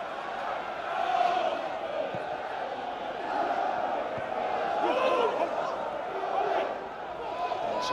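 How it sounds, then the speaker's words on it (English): A very large football crowd at Broadfield Stadium for Crawley Town against Swindon Town keeps up a constant murmur that swells into louder surges of noise, with a commentator talking over it. "A very large crowd inside the Broadfield"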